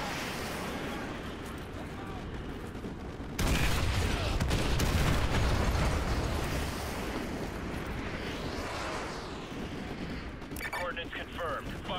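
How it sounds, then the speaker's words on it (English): Artillery strike in the Call of Duty Modern Warfare 2 campaign, with a sudden heavy blast about a third of the way in, followed by continuous rumbling explosions and gunfire, loud and dense throughout, with voices under the barrage. "Fire mission received. Artillery inbound."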